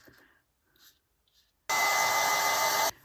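A hairdryer bursts on after a moment of quiet, blowing a loud steady whir for about a second and a half to dry paint on a balloon lamp, then cuts off abruptly.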